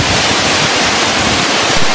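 Skjervsfossen waterfall, which drops 135 meters, roars as a steady, loud, dense rush of water with wind buffeting the microphone and no breaks.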